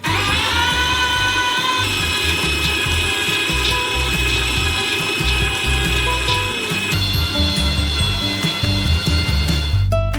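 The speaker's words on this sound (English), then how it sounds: "We transfer them into a meat grinder. And grind them through a small nozzle." A meat grinder runs loud and steady as nuts are fed through a small nozzle, a dense mechanical whirring and grinding drone that continues throughout with no speech.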